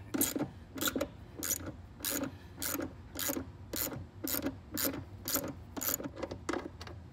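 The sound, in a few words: ratchet with 13mm socket removing Mustang seat bolts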